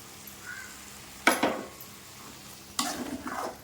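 Ground tomato paste from three tomatoes frying in a pan for rajma masala curry: a soft steady sizzle with two sharp bursts of spattering and stirring clatter, close and alone.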